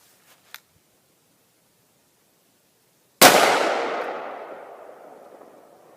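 A single loud .44 Magnum gunshot fired at a backpack in a penetration test cracks out after near silence and a faint click, its boom decaying over a couple of seconds.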